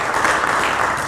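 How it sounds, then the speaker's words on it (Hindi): Brief, steady clapping from a gathered audience at a Hindu religious sermon, a short dense burst of applause heard on its own at moderate volume. "एक बार श्री कृष्ण महाराज के नाम का भी जोरदार तालियां बजा के स्वागत करेंगे मेरे मित्रों।"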